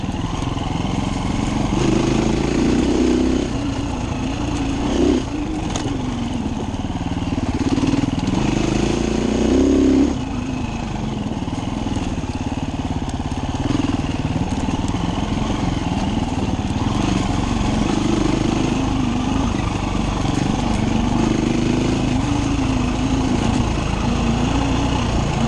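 A Husaberg 350 motorcycle engine runs steadily on the road for a long stretch, a buzzy mid-pitched drone with periodic revs and slight surges in rhythm, no talk over it.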